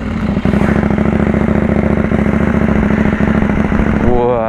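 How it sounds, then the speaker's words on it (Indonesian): A KTM Duke 790 motorcycle with an Akrapovic exhaust and DB killer fitted runs loud and close at a petrol station, giving a rapid throbbing burble that swells briefly near the end, with someone talking over it. "Terus ini knalpotnya pakai Akrapovic 3/4,"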